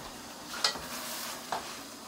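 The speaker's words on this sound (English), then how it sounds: "I'm just going to give my meat another stir before I do that." Meat stirred in a cooking pan with liquid in it, two quick scraping strokes over a faint steady bubbling sizzle, close and alone.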